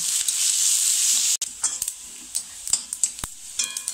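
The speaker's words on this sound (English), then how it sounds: "Now saute everything for a few minutes until the garlic becomes golden brown." Chopped garlic sizzles in a pan while sautéing, a steady hiss followed by scattered stirring scrapes and light utensil clicks against the pan.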